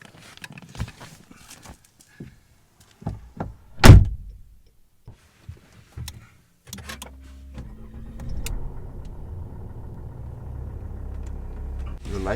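A sharp Volvo P3-chassis car door slam rings out amid scattered clicks and knocks, followed by the engine starting and settling into a low steady hum.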